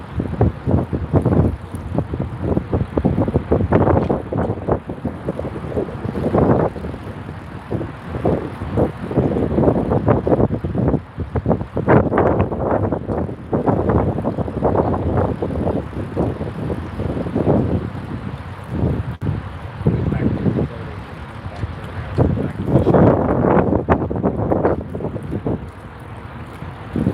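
Strong wind buffets the microphone outdoors on the water during bass fishing, a loud, continuous rumbling roar with gusty surges throughout and no voices.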